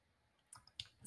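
A few small computer mouse clicks, quiet and close, spaced unevenly across a short moment with near silence around them.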